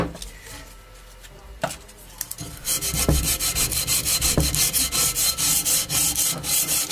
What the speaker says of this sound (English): First with rough grit sandpaper to get most of the crap off